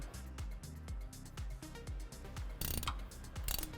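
A hand ratchet tightens a bolt on the rear differential cover of a Jeep Wrangler JL, producing rapid, close clicking bursts in a steady rhythm with brief pauses between strokes.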